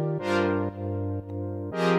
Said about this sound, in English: It would sound like this without the EQ.